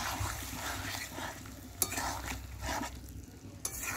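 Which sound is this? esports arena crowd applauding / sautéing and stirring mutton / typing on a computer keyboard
sautéing and stirring mutton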